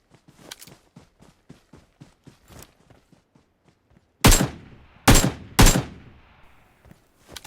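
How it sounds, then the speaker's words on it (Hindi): AKM assault rifle fire from PUBG Mobile: three loud, close gunshot bursts ring out in quick succession after a run of soft, rhythmic in-game footsteps. "स्कूल से एक फायर आता है AKM से"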